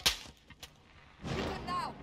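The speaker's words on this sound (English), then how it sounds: "Those shots came from the highway!" Gunfire in the Call of Duty Modern Warfare campaign on a highway: a sharp, loud shot at the start, then fainter cracks and a swelling burst of noise toward the end, with no talk.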